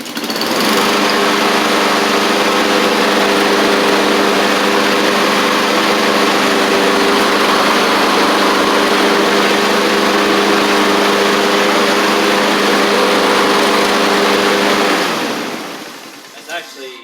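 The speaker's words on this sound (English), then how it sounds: "but when you have the mower running" Honda walk-behind lawn mower with its small engine running, a loud steady drone with a constant hum up close, cutting off near the end.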